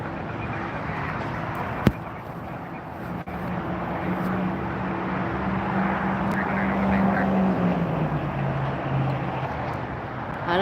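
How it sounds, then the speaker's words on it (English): An Air Canada airliner departs LAX, a broad distant roar with a droning engine tone that slowly shifts in pitch and swells as it climbs away, steady and unbroken. "Air Canada departing"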